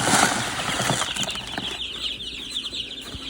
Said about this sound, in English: just feed all your chickies